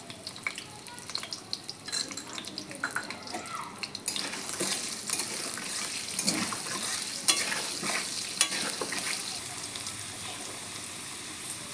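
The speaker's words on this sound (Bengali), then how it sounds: "এবার আলু ভেজে নেবো" Potatoes fry in hot oil in a home kitchen pan, giving a steady, close crackling sizzle that swells louder partway through, with occasional scrapes from stirring.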